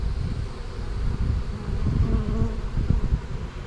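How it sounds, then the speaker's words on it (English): Wild honey bees buzz in a steady, dense drone close by, with a few louder passes as individual bees fly near, and no voices. "Had quite a few bees in there with her whenever I caught her."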